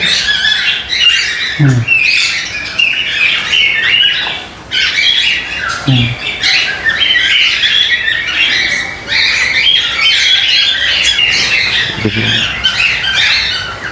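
Loud, dense squawking from many cockatiels at once in an aviary, harsh shrill calls overlapping constantly, with a few lower thumps now and then.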